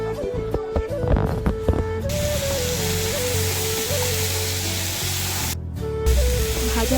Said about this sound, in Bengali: একটু ভালো করে নাড়াচাড়া করে ভেজে নিতে হবে